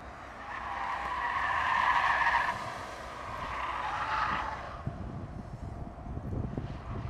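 A Lexus on a race track with its wheel spinning gives a wavering tire squeal and skid under engine and wind noise. The squeal rises, fades, swells again and then trails off into rumble.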